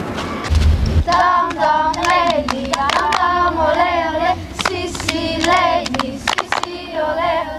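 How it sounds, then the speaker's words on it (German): Hands clapping in a steady, rhythmic pattern during a children's clapping game from the Rhine and Meuse region, with sharp claps sounding alongside children's singing voices. "Das Klatschen am Ende des Spiels dient nur dem Auszählen"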